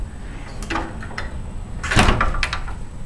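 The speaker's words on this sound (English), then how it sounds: "Oh, I didn't show you the bathroom door." A hotel bathroom door is handled up close, giving a couple of soft knocks and rattles, then a louder sliding scrape and bump near the middle, with no talk over it.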